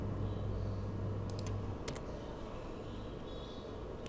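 Several quick keyboard key presses, including the delete key, while lines are removed from a SolidWorks 2D part sketch; close and light, clustered in the middle over low background hiss.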